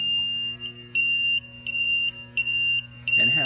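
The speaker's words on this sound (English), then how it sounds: "has an audible alarm if the compressed air goes off" An AIT5200SC fusing machine's compressed-air-loss alarm beeps in a steady repeating pattern of high, piercing tones, loud and close, over a low machine hum.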